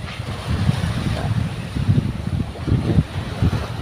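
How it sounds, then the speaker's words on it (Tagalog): Strong sea waves surge and wash at the shore beside a moored fishing boat, a continuous rough rumble with swelling pulses and heavy wind buffeting the microphone. "Lakas na naman ang alon mga bro."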